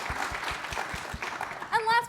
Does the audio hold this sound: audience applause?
yes